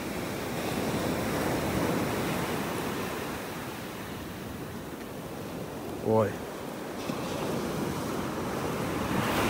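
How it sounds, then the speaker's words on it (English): Ocean surf washing steadily up a beach in North Naples, Florida, a continuous broad wash of waves close by with wind on the microphone, and a brief voice exclaiming partway through. "Waves are just coming up higher and higher and higher onto the beach."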